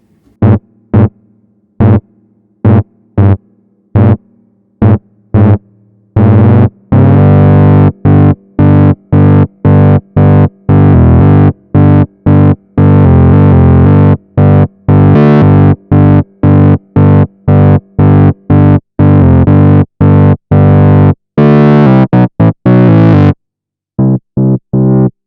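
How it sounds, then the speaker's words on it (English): Moog Grandmother analog synthesizer bass patch built from saw waves with the second oscillator detuned; loud, buzzy, gritty staccato notes played in a rapid rhythmic pattern, close and alone for about twenty-five seconds. "just detuning the second oscillator in more of kind of a bass sound."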